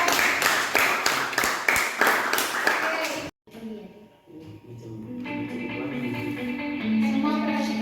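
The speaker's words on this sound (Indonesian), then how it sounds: "Rivaldi, kasih tepuk tangan dulu" A classroom applauds a student named Rivaldi, a burst of sharp claps for about three seconds that cuts off abruptly, followed by murmuring voices and a sustained tonal hum.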